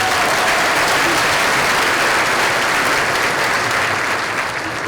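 Dense, sustained applause from a large audience at a school district keynote event, loud and steady with no letup across the whole stretch.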